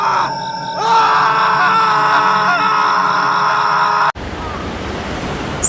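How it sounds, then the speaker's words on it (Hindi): A man's drawn-out scream as a horror sound effect, loud and wavering for about three seconds, then cut off abruptly and replaced by a harsh rushing, wind-like noise. "पूरी रात उस सड़क पर सिर्फ एक आवाज गूंजी, रोहित की चीख।"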